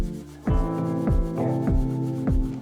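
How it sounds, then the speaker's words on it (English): A nylon sanding pad rubs worn metal motorcycle forks on an adventure bike, an Elefant, in about four steady back-and-forth strokes, each with a squeaky, sliding pitch over a low hum. "then using rubbing compound, and finally a nylon sanding pad"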